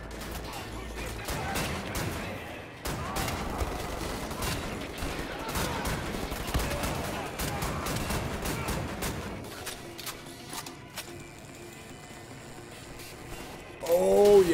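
Double shotguns fire in the Wolfenstein: The New Order video game, with rapid repeated blasts and mechanical reloading clatter over a busy game soundscape, loud and close, with a brief louder burst near the end.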